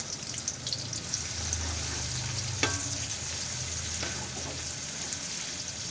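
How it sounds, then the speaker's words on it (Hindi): Onions sizzle in hot oil in a pot for mutton yakhni pulao, a steady close frying hiss broken by a few stirring clinks, with no voices. "तो इसमें प्याज ऐड कर देंगे। प्याज़ों को हम थोड़ा सा फ्राई कर लेते हैं"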